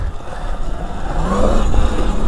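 Sur-Ron X electric dirt bike with a Torp TC1000 controller pulling away, a rising motor whine over heavy wind rumble, loud and close for a couple of seconds.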